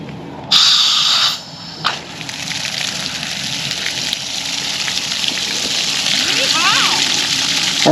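Water gushes from a newly installed water line on rural land, starting with a loud rushing burst, then a steady nearby splashing flow that builds slightly, with a person talking briefly over it.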